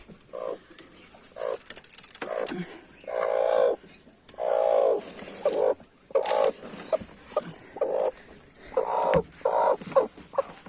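Brooding hens cluck in low, drawn-out bursts near the microphone, with a few sharper clucks between them and no clear talking.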